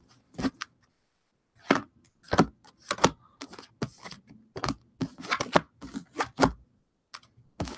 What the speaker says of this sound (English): Let's pull 3 lesson cards for Taurus.